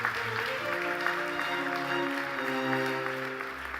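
Applause at the 2026 Samsung Ho-Am Prize award ceremony, a steady wash of clapping from an audience that fills the whole stretch at an even level while sustained musical tones play underneath.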